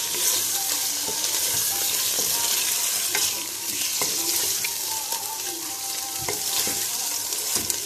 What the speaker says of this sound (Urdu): جب تک چکن کا کلر جو ہے وہ چینج نہیں ہوگا ہم اس کو پیاز میں بھونیں گے.